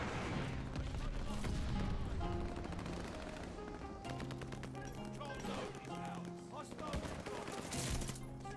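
Rapid automatic gunfire from Call of Duty Vanguard, with the Gold STEN in play, sounds in dense bursts of cracks and booms through most of the stretch, fairly quiet overall, while a player talks over the shooting.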